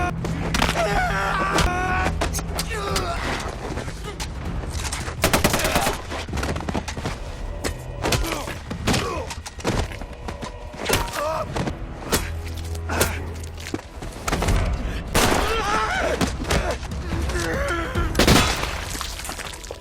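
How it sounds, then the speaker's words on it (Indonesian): Gunfire rings out during an action film battle among soldiers, with repeated sharp loud cracks and bursts scattered over a dense, busy mix of booms, impacts and clatter throughout. "Dia curiga dengan suara tembakan di belakang."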